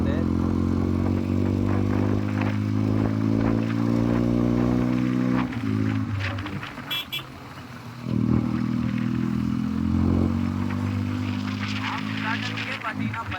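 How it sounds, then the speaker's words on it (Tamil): A Benelli 300cc twin-cylinder motorcycle exhaust burbles steadily with a smooth, even note, dips briefly, then swells again with revving, close and loud throughout. "எக்ஸாஸ்ட் நோட் பார்த்தீங்களா எவ்வளோ ஸ்வீட்டாக இருக்குன்னு"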